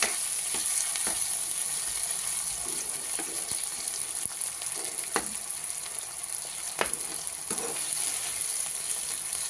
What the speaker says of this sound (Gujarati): બટેટા એકદમ ફ્રાય થવા દઈશું તેલમાં